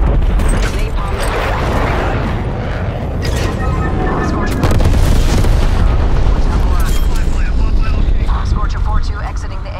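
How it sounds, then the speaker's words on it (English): Napalm strike explosions in Call of Duty: Black Ops Cold War, a dense, continuous roar of booming blasts and rumbling fire that swells louder midway and stays close and heavy throughout, with a hint of aircraft noise. "Napalm strike."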